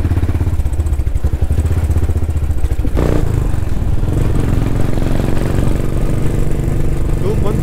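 A GT motorcycle rides through city streets with a steady, loud engine drone and road rumble that continue throughout, plus a clattering thump partway through.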